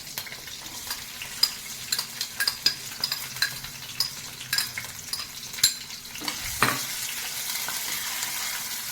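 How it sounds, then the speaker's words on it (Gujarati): Onions fry in oil with red chillies, bay leaf and cloves for dill khichdi, giving a steady close sizzle broken by repeated scraping stirs of a spoon in the pan. "ડુંગળીની થોડી બ્રાઉન કલરની થવા દઈશું"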